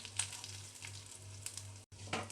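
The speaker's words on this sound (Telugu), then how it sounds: "ఇలా నెమ్మదిగా ఇవి కూడా ఫ్రై అయ్యే వరకు ఫ్రై చేసుకుందాం" Dried chillies, coriander seeds and cumin fry slowly on low heat, giving a faint, steady sizzle with a low hum beneath and a couple of light stirring scrapes.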